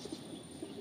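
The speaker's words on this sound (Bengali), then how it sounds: "4টে নর পায়রা দেখছেন আপনারা" Several male pigeons in a sale lot in Kolkata give soft, low cooing calls, a few brief coos repeating at close range against quiet background noise.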